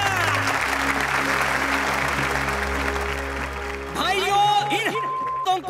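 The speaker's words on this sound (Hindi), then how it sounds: "तालियां।" A crowd of Mumbai mill workers bursts into applause, the clapping layered under a sustained musical drone, with sharper tonal sounds breaking in near the end.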